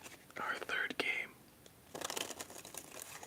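Playing cards are shuffled close up in a quiet setting, giving brief crisp riffling and snapping bursts, then a softer patter of card handling, with faint whispering.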